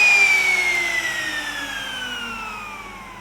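Electric wood router spinning down after being switched off, a steady whine sliding lower in pitch and fading over a few seconds, close and alone with no talk.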